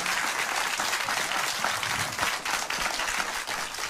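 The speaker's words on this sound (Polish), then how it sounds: "ja poproszę o brawa dla tej cudownej rzeszowianki" Concert audience in Rzeszów applauding a young performer: dense, steady clapping from a large crowd that fills the room at a constant loud level throughout.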